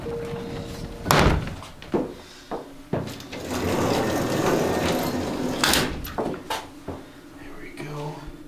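Heavy old doors thud shut in a historic hospital, several loud slams and clunks echoing in sequence at close range, with people talking between the impacts.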